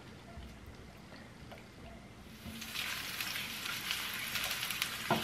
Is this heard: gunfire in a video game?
no